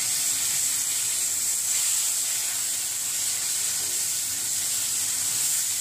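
Tomatoes sizzle in hot oil with frying spices such as red chilli, making a steady, loud hissing sizzle that stays even throughout without any talk.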